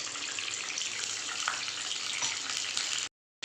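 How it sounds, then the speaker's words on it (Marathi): A little water hits a hot curry-leaf and green-chilli tempering for dhokla, giving a steady close sizzling hiss for about three seconds before cutting off abruptly. "आता टाकते थोडंसं पाणी."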